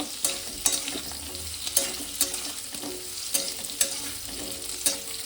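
A spoon stirs pumpkin into fried potatoes in a pan, scraping with regular sharp strokes over a steady low sizzle of frying oil. Both sounds are close and clear, with no voices.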